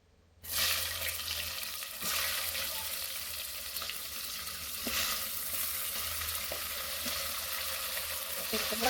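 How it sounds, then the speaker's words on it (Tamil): Two large chopped onions hit a hot pan and fry with a steady, close sizzle that starts abruptly and keeps going, with faint stirring scrapes over it. Nobody speaks. "பெரிய வெங்காயம் ரெண்டு கட் பண்ணி வச்சிருக்கேன் நான் அதை சேர்த்துக்கிறேன்"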